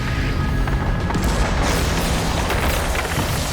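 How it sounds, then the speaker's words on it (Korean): A film explosion thunders in a dense, continuous roar of deep rumbling and crackling debris that fills the whole stretch at high loudness, with no voices over it. "지호의 힘이 폭발하면서 이 일대는 쑥대밭이 됩니다"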